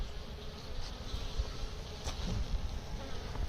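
Bees and flies buzz at the front of a beehive in spring sunshine, a steady close insect drone running continuously without pause, with no voices.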